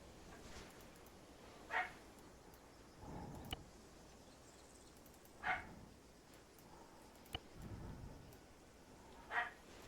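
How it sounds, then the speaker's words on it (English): A dog in the ArmA 3 military game barks in short separate bursts, about three spaced yelps across the stretch, moderately near, with faint low rumbling between them and no talk. "Shut up, dog!"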